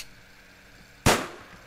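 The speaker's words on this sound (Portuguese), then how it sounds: "eu vou tentar atirar" A single sharp gunshot from the video game FNaF Universe cracks out loud and close, then decays over about half a second after a quiet stretch.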